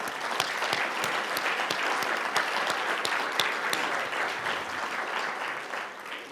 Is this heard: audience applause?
yes